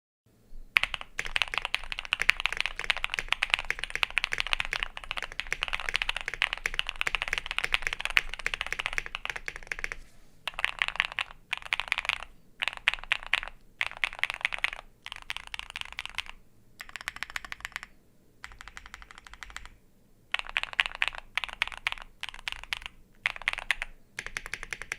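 Typing on a Yunzii Panda C68 mechanical keyboard with Panda switches: a fast, continuous run of clacky keystrokes, then shorter bursts separated by brief pauses, close and clear with no talking.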